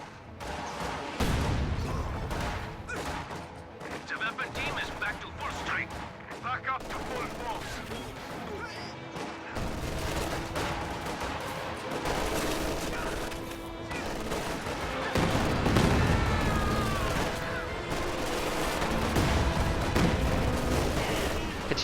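Rocket artillery salvos and gunfire from Katyusha launchers in a WWII strategy video game, with dense bursts of crackling shots and booms that swell louder in the later part, mixed under game voices.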